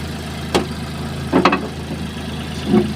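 A Hyundai Eon's 1.1 engine idles with a low, steady hum, and a few soft knocks or clicks sound over it.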